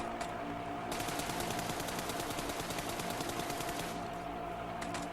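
Rapid automatic gunfire from crouch-and-fire shooting in the video game PUBG, a fast, steady stream of shots for several seconds over a constant background hum.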